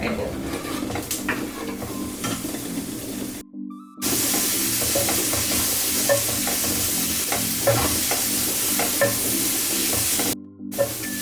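Masala with curry leaves and tomato stir-fried over low heat in a pan, a continuous close sizzle with frequent scraping and clinking of the stirring spoon, briefly cutting out twice.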